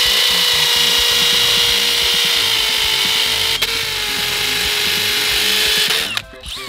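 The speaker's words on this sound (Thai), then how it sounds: "สำหรับงานเจาะปูนนะครับเจาะกระเบื้องนะครับผมจะเอาดอกสว่านธรรมดานะครับ" A Keyang DM18BL-W cordless drill in hammer mode bores into concrete with a loud, steady high-pitched whine and rapid hammering that runs unbroken for about six seconds before cutting off abruptly.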